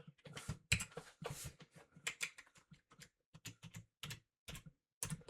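Bursts of typing on a computer keyboard, quick clusters of close key clicks separated by short pauses, with a louder keystroke near the end like a press of enter.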